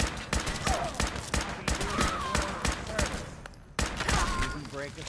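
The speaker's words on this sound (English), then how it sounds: "Keep firing!" Gunfire in Fallout 4 crackles in rapid, uneven bursts of close, loud shots, a dense volley that keeps going with only a brief lull, while voices sound faintly underneath.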